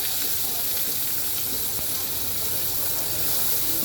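Chopped onions hiss and sizzle as they hit hot oil in a pan, a steady, fairly faint, even sizzle heard close up with no talking.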